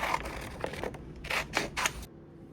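Scissors cut through printed button blanks on sublimation paper, giving several short, close snipping bursts in an uneven rhythm, heard alone against a quiet background before stopping.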